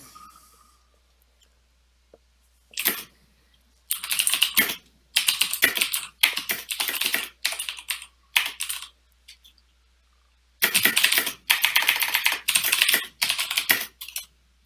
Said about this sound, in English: Yeah, I got a clicky keyboard.